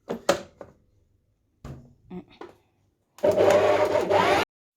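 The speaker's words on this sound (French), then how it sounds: "Et je vais pétrir tout ça." A stand mixer kneads coconut beignet dough with melted butter, heard as a few short clunks and knocks followed by a steady, close mechanical whir of the machine running for about a second.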